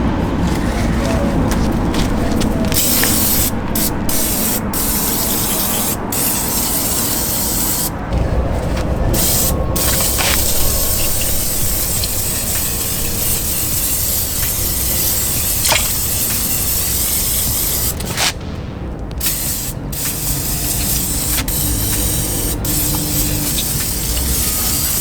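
Aerosol spray coating a Honda B20 engine for a Del Sol build, with steady broad hissing bursts running almost continuously, broken by short pauses, close and fairly loud.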